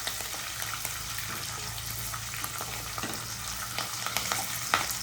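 Steady, close sizzling and crackling of tempering spices frying in hot oil for a jackfruit curry, with scattered small pops and no voices.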